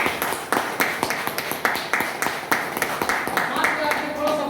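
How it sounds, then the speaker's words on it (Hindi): An audience breaking into clapping at a Hindi-language talk, individual claps fairly distinct and clustered, with murmured voices and reverberant room noise running underneath. "एक जोरदार ताली होना चाहिए"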